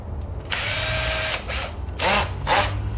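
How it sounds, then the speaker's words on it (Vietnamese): A Makita 14V cordless battery drill runs in hammer-drill mode, with a high, close whir in short bursts of differing lengths and a few louder surges toward the end. "Rồi đây là chế độ khoan búa,"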